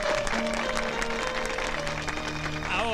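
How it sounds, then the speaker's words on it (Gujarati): Audience applause welcoming a singer on stage, steady clapping throughout with sustained musical tones running underneath. "તાળીઓ."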